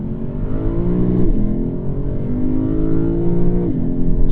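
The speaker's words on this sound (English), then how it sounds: "put this in manual and let that V8 sing" A 2022 Lexus IS500 with a naturally aspirated V8 revving in manual mode, a loud, close engine drone climbing steadily through the gears with brief dips at shifts.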